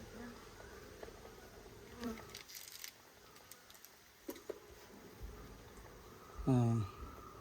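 Honey bees buzz intermittently nearby, with a louder droning pass toward the end, among scattered clicks and handling noises.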